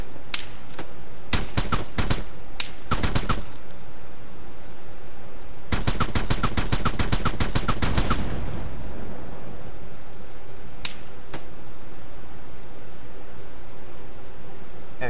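Gunfire in the Arma video game, coming from a town: scattered single shots, then a long sustained automatic burst, followed by a few more isolated cracks over steady background noise.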